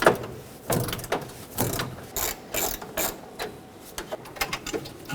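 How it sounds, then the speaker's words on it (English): Ratchet with a 12mm socket loosening a horn bolt on a 1995-2004 Toyota Tacoma, a series of close, crisp clicking strokes in short irregular bursts. "Use a 12mm socket, and if you go down through the top here with a longer ratchet, you should be able to find the head of the bolt."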